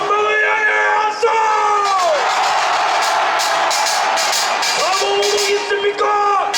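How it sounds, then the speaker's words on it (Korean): An outdoor crowd of people in their twenties and thirties at a Gwangju Geumnam-ro rally against President Yoon Suk-yeol's impeachment bellows forward. A long, loud unbroken roar of yells and whoops rises between a leader's stretched shouts at the start and end. "전방을 향해 함성!"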